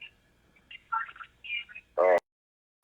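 A mobile phone gives a short, bright electronic alert tone, then a louder buzzing burst, heard up close during a casual indoor conversation, with a brief silence afterward.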